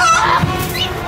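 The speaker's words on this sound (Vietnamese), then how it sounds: "Đúng là mấy con gà chết tiệt thì thiệt chứ" Chickens squawking loudly and close in a short, harsh honking burst.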